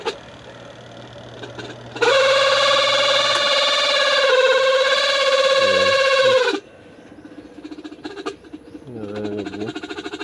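A washing machine spin dryer gives a loud, sustained high-pitched squeal for several seconds, then drops off to softer mechanical rattling and whirring.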